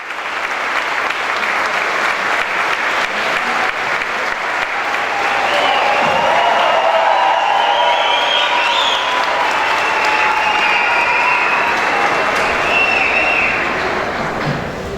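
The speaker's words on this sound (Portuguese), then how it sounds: "vamos receber com uma calorosa salva de palmas o juiz Sérgio Moro" A large audience in Maringá gives a warm, sustained round of applause welcoming judge Sérgio Moro to a lecture, a dense, loud wash of clapping that holds steady throughout with a faint murmur of voices beneath.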